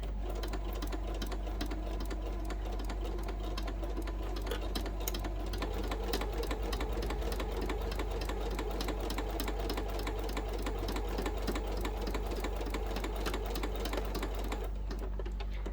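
A sewing machine runs steadily, stitching a seam along a fabric bookmark with an even 3/8-inch allowance, its rapid needle chatter continuous and close for most of the clip before stopping near the end.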